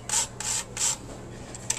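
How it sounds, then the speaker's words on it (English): Whole nutmeg rubbed against a hand grater in a home kitchen, three distinct rasping strokes followed by lighter scrapes, close and fairly quiet with no talking. "you want to grind about 1/4 of one of these pieces of nutmeg"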